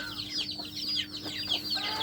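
A hen waiting for a free nest clucks and murmurs up close in a short, uneven run of soft calls, with other fowl faintly around her.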